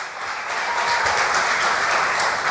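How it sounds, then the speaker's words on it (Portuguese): A church congregation claps together in a sustained burst of applause that fills the hall, dense and even throughout with no voices over it. "Dê um aplauso se você é cristão."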